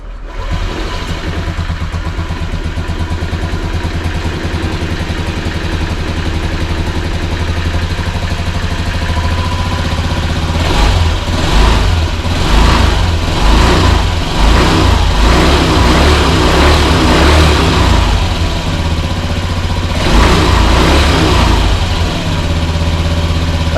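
Car engine running after repair, idling steadily and loudly, then revved several times in bursts before settling back to idle, with no talk over it.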